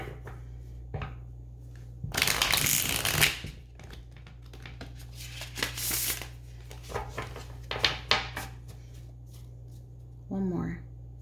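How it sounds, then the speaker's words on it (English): Tarot cards being shuffled by hand in several bursts of riffling and papery flicks, fairly close and quiet, with gaps of near silence between them. "Shuffle these up."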